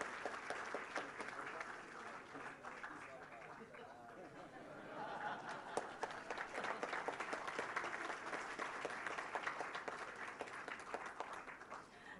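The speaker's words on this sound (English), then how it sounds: "A round of applause for the gentleman." An audience applauds at an academic certificate presentation at a Malaysian university hall, a faint, steady patter of clapping that runs throughout with soft crowd chatter beneath.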